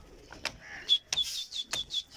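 Several pigeons at a pigeon-keeping rooftop give short chirping and cooing calls, with a few sharp bird calls and faint wing flaps close by, in quiet surroundings without talk.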